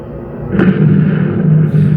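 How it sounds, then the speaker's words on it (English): Anti-aircraft gunfire from the Pearl Harbor attack sounds as a single heavy boom with a rumbling tail, loud and close, heard alone in a short burst. "Anti-aircraft fire was soon spoiling the aim of the attacking planes."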